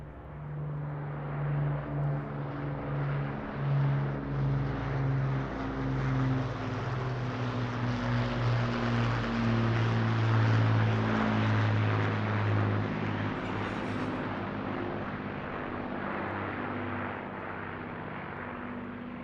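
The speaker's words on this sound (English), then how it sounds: "The aircraft will shortly break formation." Several aircraft flying together in formation at the Eastbourne International Airshow, a loud sustained propeller engine drone with steady harmonic tones that swells as the formation passes close overhead, then slowly fades.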